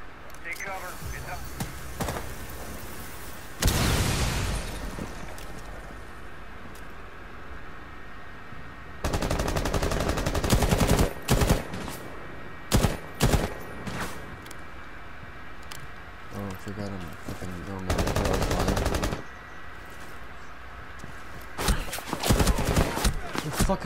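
Bursts of rapid automatic gunfire from a video game, loud and repeated in long stretches with short single shots between, while players talk over it.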